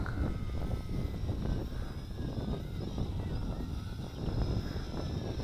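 A Tarantula X6 drone flying outdoors with a steady buzzing whine of multiple rotors, constant and moderately distant, with wind noise throughout.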